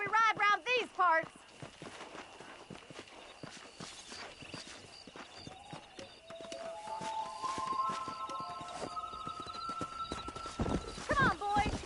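Horse hooves from a video game clop steadily through the middle, with a brief neigh, sustained tonal game sounds and talk at the start and end.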